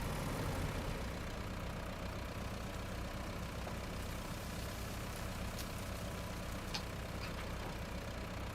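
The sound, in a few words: truck engine idling in video game Road Craft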